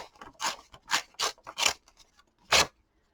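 Collage paper being ripped by hand in short, sharp tearing bursts, about five quick rips followed by a final one after a pause, close and fairly quiet with no talking.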